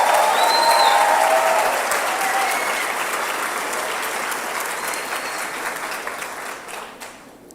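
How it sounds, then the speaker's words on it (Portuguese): A congregation at a church conference applauds, a thick, continuous roar of many clapping hands that fades gradually and ends with a few scattered claps. "Vamos aplaudir a Jesus por ele."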